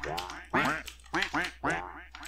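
Minecraft ducks quack in a quick series of nasal bursts, four or five calls close together, loud and clear with no talk over them.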